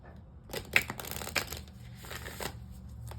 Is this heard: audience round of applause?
no